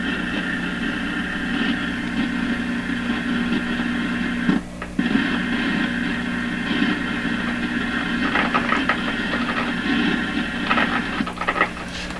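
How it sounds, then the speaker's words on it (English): Hissy radio noise with a low steady hum underneath, broken by scattered bursts of crackling static from a faulty 1929 Victor RE-45 radio speaker, heard via a signal tracer, fairly loud and with no talking. "I hear the crackle coming out of the radio speaker."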